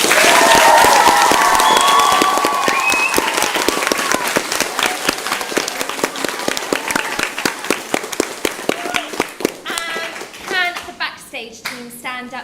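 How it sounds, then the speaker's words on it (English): Audience applause and cheering after a Year 6 school play: loud, dense clapping that thins into scattered individual claps, with a few voices rising near the end. "So can we give them a massive round of applause?"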